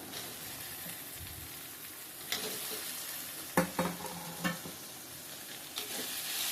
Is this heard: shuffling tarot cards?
no